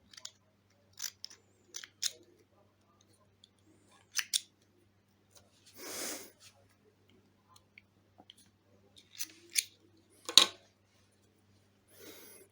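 Scissors snip cotton wick for rebuilding a Smok RPM3 0.15 ohm vape coil, a handful of sharp, close clicks and cuts spaced out over quiet, with a soft rustle of cotton in the middle.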